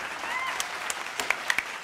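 An audience in a hall claps at an interview with TV actors, a brief burst of applause with distinct sharp claps and scattered whistles standing out.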